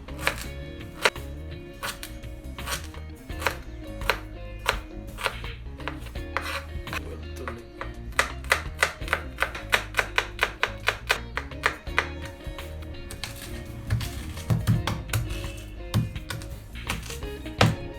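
Ginger and garlic are crushed for a beef liver fry, a close, rhythmic run of sharp knocks that repeats steadily for the whole stretch and speeds into denser clusters in the middle.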